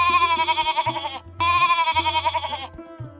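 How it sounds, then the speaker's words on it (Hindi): A goat bleats loudly and close in two long, wavering, nasal cries, each with a trembling vibrato, with low background tones underneath and a brief pause between them. "इतना कहते ही बकरी मियाने लगी"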